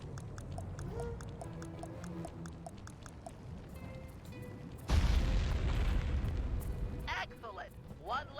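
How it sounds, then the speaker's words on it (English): Dynamite blast in Sly 3: Honour Among Thieves on PS2, placed near an anchor on the Venetian skyline, landing as a sudden loud boom with a long rumbling roar over steady ticking game sounds and music. "Place the dynamite when you get near the anchor, or kaboom!"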